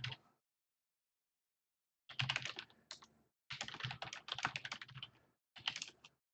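Rapid typing on a computer keyboard, close and crisp, in dense bursts of clicking separated by short silent pauses.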